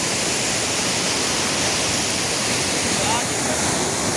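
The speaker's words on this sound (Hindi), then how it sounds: "यमुना जी का कितना स्वच्छ पानी बह रहा है" Yamuna river water flowing near its source on the Yamunotri pilgrimage route in Uttarakhand, a steady, dense rushing roar, loud and close, unbroken throughout with no voices.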